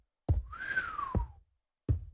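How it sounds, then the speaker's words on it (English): Someone whistles a single rising and falling tone lasting about a second, clear and fairly close, set between a few short low thumps. "I know that whistle wasn't very audible"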